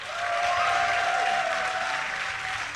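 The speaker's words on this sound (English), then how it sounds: "give a cheer for Mana!" A live esports event crowd at a DreamHack Summer StarCraft match cheers and applauds in a sustained, dense roar that fills the hall for the whole moment, with a faint tone running through it.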